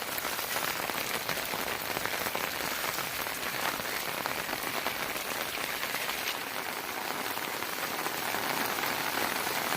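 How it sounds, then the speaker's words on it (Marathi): Heavy rain pours steadily over a village in rural Konkan, a dense, even patter of drops on surfaces that holds without a break for the whole stretch, with no voices. "जाम पाऊस पडतोय."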